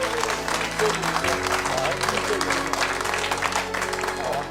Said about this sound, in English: Bigger applause than that.